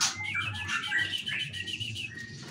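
A leucistic white-rumped shama (murai batu) sings in a breeding cage at a bird farm, pouring out rapid, bright whistled phrases and chirps close by over a steady low background hum.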